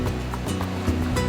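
Ocean waves breaking on a sunny beach on Spain's Costa Blanca, a low, fairly faint rushing wash with a few swells and surges, heard alone without voices.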